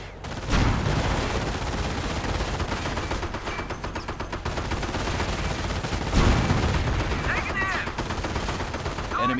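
Bursts of machine-gun fire crackle in a Company of Heroes 1 battle, with loud volleys near the start and again later, and a voice talks over the shooting.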